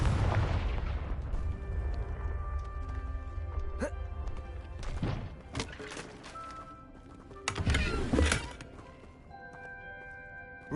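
A Confringo fire spell erupts in the Hogwarts Legacy video game with sharp, booming blasts, two of them standing out above a steady rumbling game soundscape, with a brief louder burst near the end.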